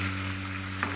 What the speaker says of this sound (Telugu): సొరకాయ ముక్కల్ని అయితే మగ్గించుకుంటున్నానండి.